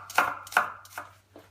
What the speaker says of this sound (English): Always slice shallot like this